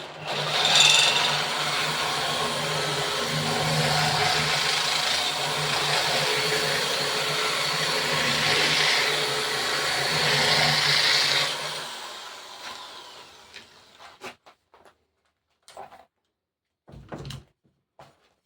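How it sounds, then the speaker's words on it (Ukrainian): Sandpaper is held against a large wooden dowel spinning in a power tool, giving a steady rough hissing whir for about twelve seconds, followed by the motor stopping and several scattered handling knocks and clunks. "Так що, спробуємо наждачкою пройтися."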